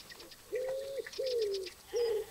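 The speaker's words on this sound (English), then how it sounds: "Ah, a common wood pigeon." Common wood pigeon in the wildlife game Alba gives three clear, drawn-out coos in a row. The calls sound close and stand alone over quiet ambient nature noise.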